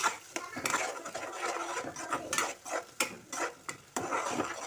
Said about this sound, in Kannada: ಇವಾಗ ಚೆನ್ನಾಗಿ ಫ್ರೈ ಮಾಡಬೇಕು.